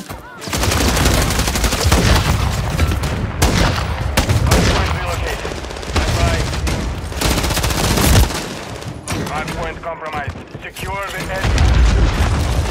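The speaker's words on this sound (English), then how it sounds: "Fucking grenades. Fucking shit being thrown at me." Grenade explosions and rapid gunfire in Call of Duty MW3, loud booms and bursts of automatic fire filling the battlefield almost continuously, with a player talking over the chaos.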